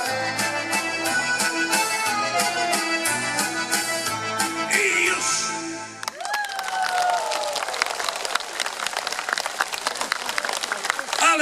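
A concert audience breaks into dense applause with scattered cheers after a song with accordion-like music ends, the clapping loud and sustained.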